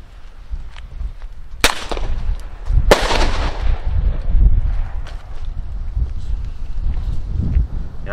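Two sharp, loud bird-scare banger cartridge bangs a second apart ring out over steady wind noise, each with a crackling tail that fades slowly.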